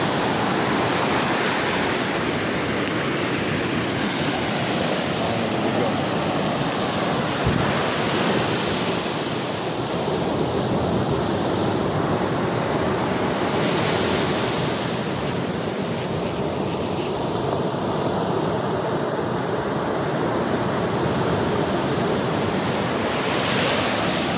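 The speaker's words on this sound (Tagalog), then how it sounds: "Malaki pa rin ang alon sa tabi." Steady roar of ocean surf, waves rolling and breaking continuously on the shore, with wind buffeting the microphone throughout and no voices.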